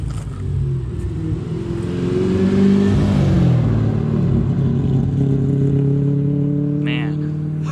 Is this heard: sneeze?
no